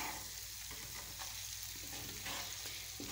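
Chicken liver (kaleji) sizzles and fries steadily on a hot tawa griddle, a dense continuous crackle with faint stirring scrapes, close and alone without talk.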